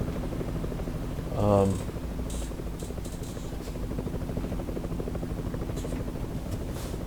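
A helicopter thrums steadily in American Truck Simulator, its rotor drone blending into the constant engine hum of a truck; someone talks briefly over it and short clicks and blips come and go.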